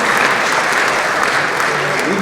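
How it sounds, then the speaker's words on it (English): Dense, steady audience applause fills a wedding-toast style event hall at close range for the whole stretch, a continuous wash of clapping hands with no pauses or voices rising above it. "Round of applause."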